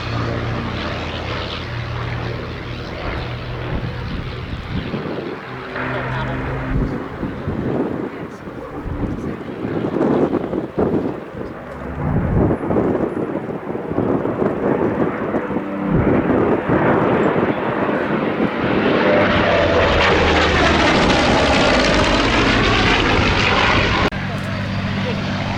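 A Sopwith Camel First World War biplane flying at a Shuttleworth airshow, its propeller engine droning steadily and swelling as it passes, heard under continuous talk with some wind noise.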